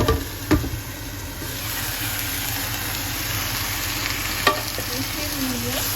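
Onions fry in a pan for a salmon and pointed gourd dish, giving a steady close sizzle with a couple of sharp stirring clatters near the start and middle.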